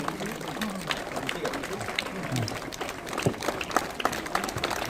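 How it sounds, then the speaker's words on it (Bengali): Scattered clapping from a gathered crowd at a flag hoisting ceremony, loose individual claps mixed under ongoing talk and background chatter. "ফ্ল্যাগ হোয়েস্টিং হলে সবাই হাততালি দাও"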